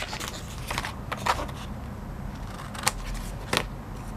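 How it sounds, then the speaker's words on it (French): Scissors snip off excess paper from a handmade card during a craft session, giving a few short, close, crisp cuts scattered over a quiet background with no talking. "Et je coupe ce qui dépasse."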